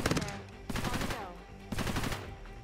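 Automated defensive turrets in Cepheus Protocol fire in two sustained bursts of rapid, rattling shots, each about a second long with a short pause between, moderately loud and close.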